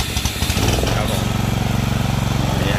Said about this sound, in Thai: นี่ให้คุณลุงได้ลองเทสดูนะครับผมรถตัดหญ้านะครับ